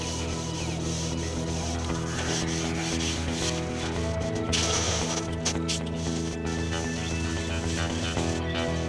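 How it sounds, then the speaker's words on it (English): Hand sanding on the tailgate of a Toyota pickup under restoration, a steady abrasive rubbing that runs continuously and close by, with no talking. "I've been sanding on the tailgate, and it's looking good too."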